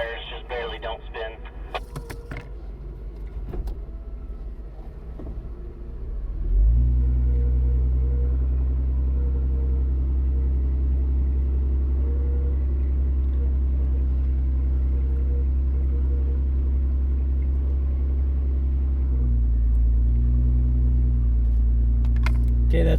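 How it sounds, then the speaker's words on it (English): An off-road vehicle engine rumbles loudly and steadily while winching the vehicle out of sand. The note rises sharply a few seconds in, holds at a heavy drone, and briefly shifts near the end. "Let the winch do most of the work."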